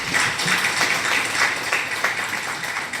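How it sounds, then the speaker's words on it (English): Audience applause at an energy-financing policy seminar, an even patter of many hands clapping from a moderately near crowd, steady for the full span. "A round of applause for them."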